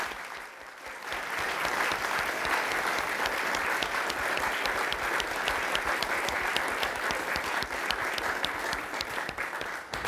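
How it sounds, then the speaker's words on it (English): Sustained, steady applause from an audience at a 2014 swearing-in ceremony for an assessor-recorder, honoring the office staff; dense clapping rises within the first second and holds evenly for about ten seconds with little voice. "So please give a round of applause to my staff here."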